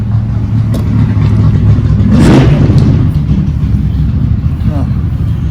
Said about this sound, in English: Always somebody coming by, revving their motor up, or speeding down the highway.